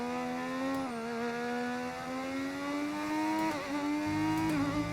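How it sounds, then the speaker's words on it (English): A modded V6 race car engine in the F1 25 racing game holds a steady high whine, dipping briefly near one second and again around three and a half seconds as revs shift, loud and continuous with no talk. "We're using a modded V6 engine."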